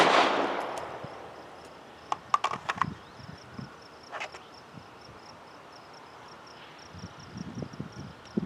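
Pistol shots ring out during a shooting range drill: a sharp report at the start followed by a quick string of fainter, distant-sounding cracks, with insect chirping in the background.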